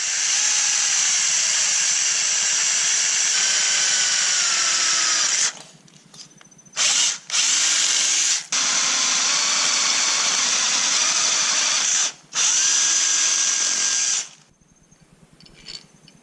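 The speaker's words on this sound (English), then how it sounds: "get a hole drilled in down here" Power drill boring a hole through a plastic dash piece of a 1994 Ford F150, loud continuous whine in long bursts with brief stops and restarts, close up, no talking.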